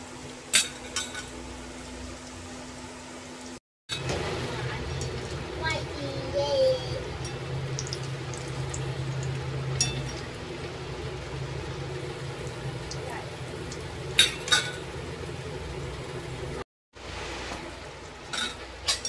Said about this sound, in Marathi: छान असे लाल आणि खरपूस आपल्याला समोसे फ्राय करून घ्यायचे आहेत ह्यामध्ये.